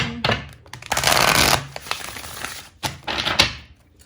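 A deck of cards is shuffled with quick riffling bursts, close and crisp, followed by shorter shuffles and taps.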